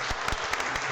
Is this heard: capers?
no